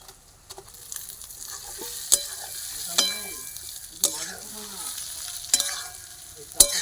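Pointed gourd (potol) pieces stirred in a frying pan for Bengali potol posto, with a steady sizzle broken by several sharp spatula scrapes and knocks at irregular intervals, close and moderately loud.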